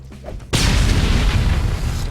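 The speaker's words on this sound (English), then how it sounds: "That was one big explosion." A big explosion in the video game DeathSpank bursts in suddenly after a quiet moment, then a loud, dense rumbling roar holds steady to the end.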